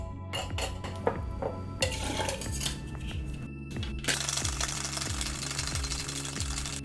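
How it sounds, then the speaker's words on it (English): Ice rattles inside a cocktail shaker while a Tequila Sunrise is mixed: irregular clinks and clatter at first, then a fast, steady shaking rhythm, close and fairly loud, with no talking. "We're going to grab some ice and shake it up."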